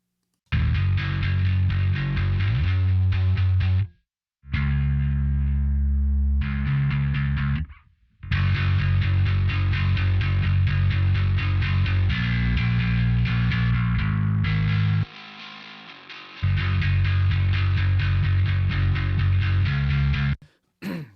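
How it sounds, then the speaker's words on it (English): A heavily distorted bass guitar line plays in chunky phrases during a mix breakdown of a song, cutting out briefly several times and kicking back in loud and gritty. "I'll play a spot where it drops out and also comes back in with the distortion"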